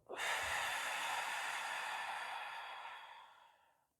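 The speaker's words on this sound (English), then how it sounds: "And take a deep breath in and exhale." One long, deep, breathy exhale in a guided relaxation breathing exercise, close and airy, starting strong and fading out gradually over several seconds, with no talking.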